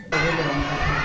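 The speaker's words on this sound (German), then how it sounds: "Im Chor buchstabieren die Kinder und versuchen so das Alphabet zu erlernen." Schoolchildren at a private school in Nepal chant the alphabet together in a loud, continuous chorus of many young voices, filling the space steadily from start to end.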